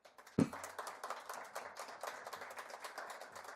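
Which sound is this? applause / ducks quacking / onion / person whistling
applause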